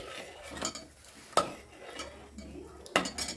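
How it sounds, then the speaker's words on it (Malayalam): Mango and jackfruit-seed curry stirred in a pot after the tempering is poured in, with a few soft scrapes and two sharper clinks of the spoon against the pot, quiet and close, no talk. "ഇട്ട് കൊടുത്തിട്ട് കറി നമുക്കൊന്ന് നന്നായിട്ട് ഇളക്കാം."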